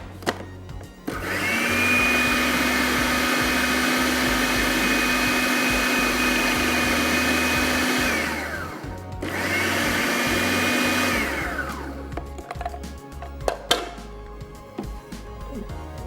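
An electric grinder pulverizes cooked lentils for kebabs, running loud and steady for about seven seconds, stopping, then whirring again in a shorter burst before clattering settles.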